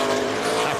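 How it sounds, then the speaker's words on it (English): Race car at the 2003 Subway 500 spinning its tires coming off a corner, a loud, sustained engine and tire roar with no break in the brief burst. "Spun the tires a little bit off the corner."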